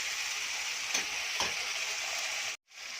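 Chili paste fries in a pan for a Bengali egg and potato curry, giving a steady bright sizzle with a couple of soft stirring scrapes. It runs close and continuous, then cuts off briefly near the end.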